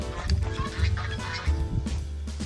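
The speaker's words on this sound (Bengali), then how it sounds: "এই যে হাঁস ডাকছে" Ducks call on a village fish-pond farm, giving a run of short, low, throaty bursts at close range over a steady outdoor murmur.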